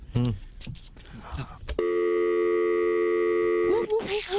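A telephone busy signal sounds after a phone cord popped out during a 1994 call-in radio show: a loud, steady electronic tone holds for about two seconds, with voices talking just before and after it.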